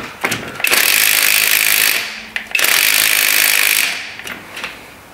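A Parkside ratchet with a long 17 mm socket works on a car's suspension linkage, giving two sustained, loud bursts of rapid mechanical buzzing about a second and a half each, with short clicks between, and no talk.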